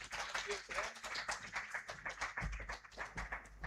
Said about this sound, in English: a big, big hand clap to our panel